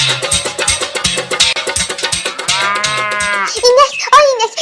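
A cow lows loudly and up close in a drawn-out moo, over a steady rhythmic plucked-music backing, ending with a couple of short bright tones.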